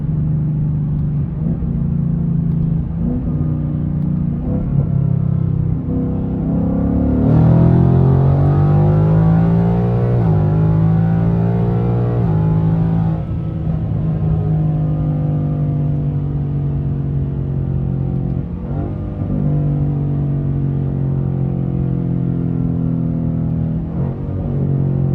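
A Ford Mustang with a 10-speed automatic rumbles loudly through a hard acceleration pull, its engine note climbing and swelling through several quick gear changes over a steady low drone, with no voices.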